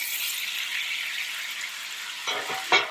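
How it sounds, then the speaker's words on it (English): Butter and onions sizzle in a pan for Italian-style braised lamb: a steady, close frying hiss throughout, with a couple of brief clatters near the end. "So add my butter and onions."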